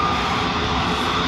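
A JetBlue Airbus A321 departs Dublin Airport with a loud, steady roar of jet engines, close by and unbroken for a moment.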